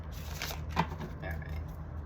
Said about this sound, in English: Usually I only shuffle 3 times, but I felt I needed a 4th shuffle there